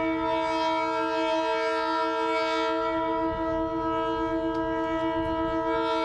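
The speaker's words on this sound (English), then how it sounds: "Leading the procession was Glenbrook Vintage Railway's DBR Class" Glenbrook Vintage Railway DBR Class diesel locomotive 1254 sounds a sustained multi-tone horn while passing, the chord steady and loud over low rumbling engine and wheel noise.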